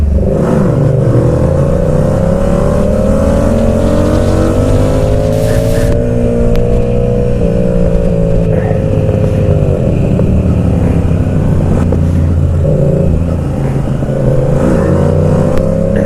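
A motorcycle accelerating hard in second gear while lifting into a wheelie, its engine droning loud and close and rising in pitch with throttle, staying strong throughout with slight shifts in revs.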